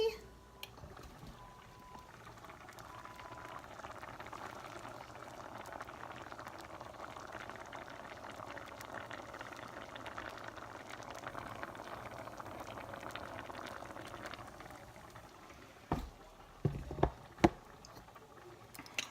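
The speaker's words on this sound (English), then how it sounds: "And it's simmering and it'll be fine." Vegan chili simmers in a covered pot, a steady low bubbling and hiss that continues evenly for many seconds before a few clattering knocks near the end.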